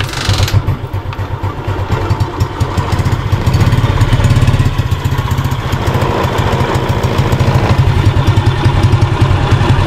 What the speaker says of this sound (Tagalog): So yan po yung andar ng motor natin